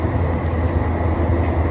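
Montreal metro train noise, a loud, steady rumbling roar filling the whole moment with no distinct breaks.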